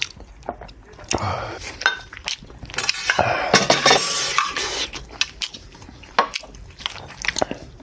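A home-cooked meal of rice and kimchi is eaten at a table, with close crunchy bites, chewing and clinking of cutlery and dishes throughout while people talk.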